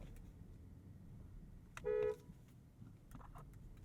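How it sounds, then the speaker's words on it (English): A 2023 BMW 760i's horn blasts once, a short steady honk of about a quarter second, loud and close over faint background hum. "World famous horn test."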